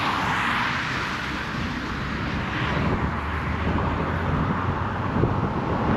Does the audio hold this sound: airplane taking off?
yes